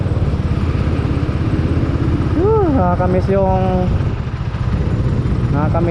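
A Suzuki Raider motorcycle engine runs steadily and close by, with a rough, even idle throughout while someone talks over it and a brief musical tone sounds midway.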